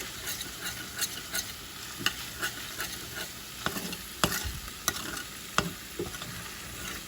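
Flour browning in a pan for hamburger gravy with onion, stirred by a utensil that scrapes and taps the pan at irregular moments over a steady, quiet sizzle.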